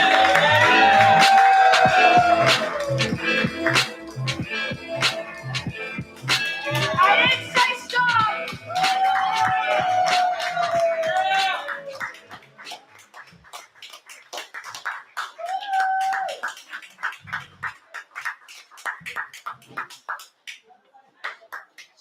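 Audience members clap at an open mic night, a rhythmic run of sharp claps mixed with crowd cheers and whoops, while a voice talks and sings over the top before the room thins out.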